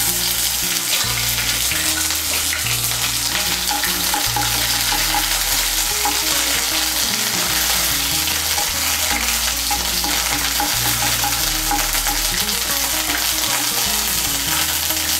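A teaspoon of ginger paste frying in hot oil with whole tempering spices for a potato paneer curry, a loud, continuous close sizzle with stirring scrapes running throughout and no pauses.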